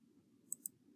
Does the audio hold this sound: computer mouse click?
yes